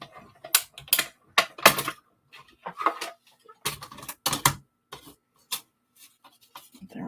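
Die-cutting machine cranking card paper through, with a die held to the paper, heard as uneven clicks and ratcheting bursts that come close and loud between short quiet gaps.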